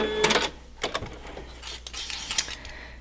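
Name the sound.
sewing machine stitching across a seam allowance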